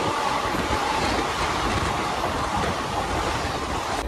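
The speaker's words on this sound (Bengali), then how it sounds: "37915 হাওড়া কাটোয়া লোকাল। দেখো মারাত্মক স্পিডে ডিপারচার করছে" The 37915 Howrah–Katwa local train pulls away at speed, a loud, continuous rumbling roar of wheels and carriages heard up close from the doorway, with no talking.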